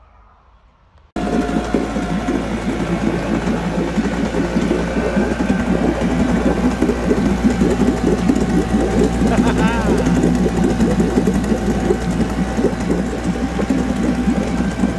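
A 5 hp Mariner outboard motor runs steadily after starting abruptly, a loud continuous buzzing drone with a rattling mechanical texture that holds near and constant throughout.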